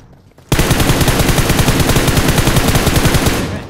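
Loud automatic gunfire from a gun in a battle royale video game: after a brief near-silent moment, a dense, rapid stream of shots rattles on steadily for about three seconds before easing off.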